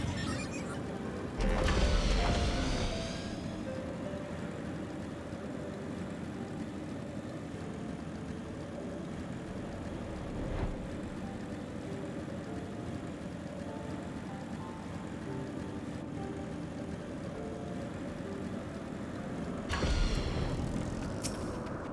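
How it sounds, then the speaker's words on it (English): A motorcycle ridden in Final Fantasy XIV gives a steady engine drone that holds throughout, with brief louder surges near the start and end, no talk over it. "It's time to ride a motorcycle."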